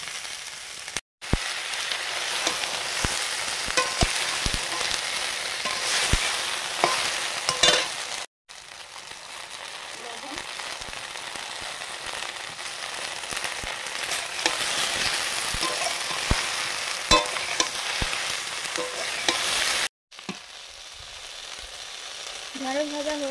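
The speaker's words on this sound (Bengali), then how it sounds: "ঢেঁড়স ভাজা হয়ে গেছে, নিয়ে নিলাম।" Cut okra sizzles in hot oil in a pan as it is stirred, a loud steady frying hiss broken by sharp spatula scrapes and clinks, with brief pauses between stretches.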